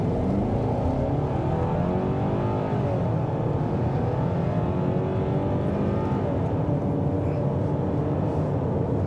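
2023 Hyundai Santa Cruz SEL Activity Pack pickup with a 2.5-liter turbo engine accelerating up to highway speed, heard from inside the cabin as a steady, dense engine drone and road roar that rises gradually, with no talking.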